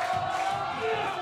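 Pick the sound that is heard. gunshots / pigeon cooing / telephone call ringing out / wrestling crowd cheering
wrestling crowd cheering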